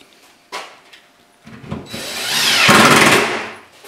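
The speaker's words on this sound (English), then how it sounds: "Screwing up the applied end onto the side of the cabinet." Power drill driving screws through an applied end panel into the side of a wooden kitchen cabinet, a few short taps then a rising whir and grinding burst up close, alone.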